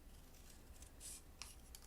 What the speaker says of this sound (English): So I'm just going to fussy cut this really quick